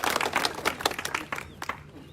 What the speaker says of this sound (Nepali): उहाँलाई उहाँको नाममा जोरदार ताली गर्नु